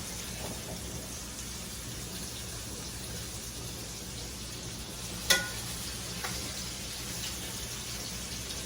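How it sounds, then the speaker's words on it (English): Food sizzles skin side down in a hot pan, a steady soft crackling hiss throughout with one sharp clatter midway. "you're gonna put this skin side down in the pan"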